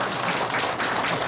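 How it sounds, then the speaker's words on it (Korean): A crowd at a Korean volunteer troupe's singing performance claps and applauds, a dense, loud wash of hand claps heard briefly and without pause. "박수 한번 주세요."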